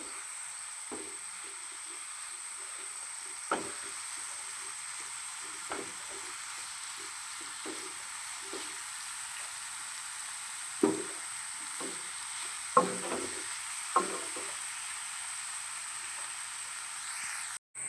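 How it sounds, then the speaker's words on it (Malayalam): Coconut and coriander powder mixture being stirred as it roasts in a pan, a steady faint sizzle with sparse scraping stirs and a few louder clinks of the spoon against the pan. "എന്നിട്ട് ഈ മിശ്രിതം നന്നായിട്ട് ഇളക്കി കൊടുക്കാം"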